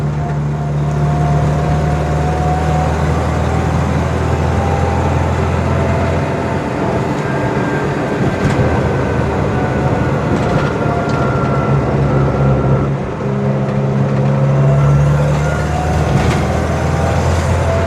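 A 1962 Pontiac Tempest being driven, its steady engine drone and road rumble continuous and fairly loud throughout, with no talking.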